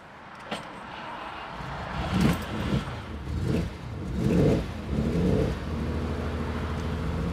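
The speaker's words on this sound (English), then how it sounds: "Well, there's your cold start." A 1975 Ferrari 365 GT4 2+2 with a carbureted V12 on side-draft Webers starts cold and revs in several rising and falling surges, then settles toward a rough, steady idle, heard from nearby.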